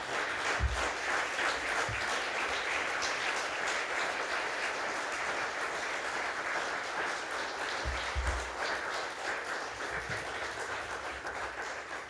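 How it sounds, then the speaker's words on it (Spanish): Church congregation applause, a sustained, even patter of many hands clapping at moderate distance, with a few low thumps breaking through. "Dale un aplauso al Señor"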